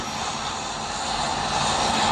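An airplane engine drones steadily in the PUBG Mobile game, loud and continuous, with a slight rise in volume toward the end and no talk over it.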